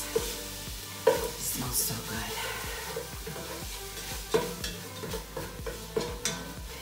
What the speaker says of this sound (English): And we're gonna mix that around.